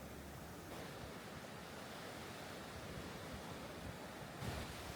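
Steady roar of ocean surf washing in, a continuous broadband rush with a fresh wave crashing near the end, no voices.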